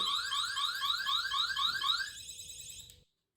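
An EAS anti-theft security gate alarm set off by a tag: a loud, rapid electronic warbling beep that repeats steadily for about three seconds, then cuts off abruptly.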